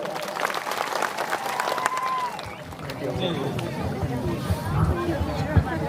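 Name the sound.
audience applause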